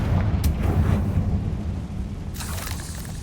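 A Confringo spell explodes in Hogwarts Legacy with a deep, rumbling boom that rolls on under dense game noise, followed by a fainter crackling burst near the end.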